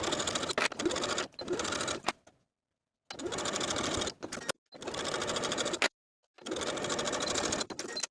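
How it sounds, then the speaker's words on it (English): A sewing machine stitches the seams of a shirred puff sleeve top in four close bursts of rapid, even whirring, separated by short silent pauses. "And then we can sew those seams with a 1/2 inch seam allowance."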